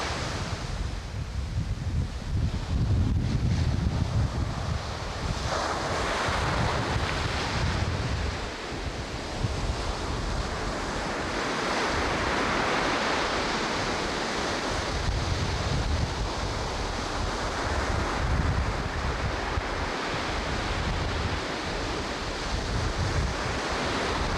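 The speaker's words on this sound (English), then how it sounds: "The waves, as you can see, are rolling in rather" Ocean surf rolls in hard during Hurricane Andrew in Florida, a continuous roar of breaking waves mixed with gusting wind buffeting the microphone, loud and unbroken throughout.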